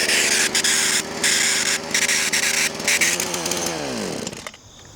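Power saw blade cutting into a steel toe shoe: loud, close, continuous whining grind with uneven bogging surges, then the motor winds down and stops near the end.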